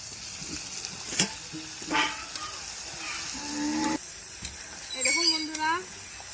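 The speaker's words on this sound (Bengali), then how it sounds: "আমি এইভাবে ঢাকা দিয়ে দিয়ে মাংসটা কষিয়ে নেব।" Chicken for a village-style biryani sizzles under a cover in the oil it has released, a steady close frying hiss with occasional stirring clinks while a person talks over it.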